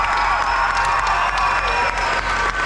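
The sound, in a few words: audience applause and cheering at Irish dance festival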